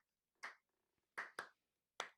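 Four sharp hand claps ring out in a quiet room, the first alone, then a quick pair, then one more after a pause, each crisp and close.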